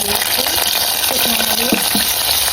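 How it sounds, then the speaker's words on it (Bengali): Cooked meat frying in hot oil with onion in a pan, a loud continuous sizzle and crackle close up, with stirring scrapes and clinks throughout. "রান্না করা মাংস এখন তেলে দেব।"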